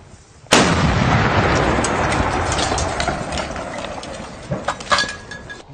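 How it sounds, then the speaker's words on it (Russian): Militia artillery gun with an improvised modification fires a single loud shot, a sudden blast whose booming roar and echo rumble on for several seconds. "Выстрел!"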